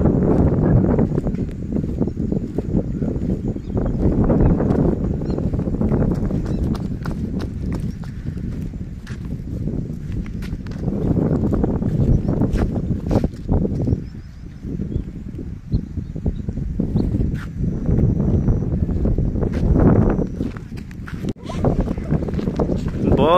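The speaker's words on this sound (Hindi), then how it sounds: "बहुत तेज हवा चल रही है" Strong wind buffets the microphone at Pong Dam lake in a wildlife sanctuary during cold weather, a dense, continuous low roar with gusty fluctuations and occasional faint clatter throughout.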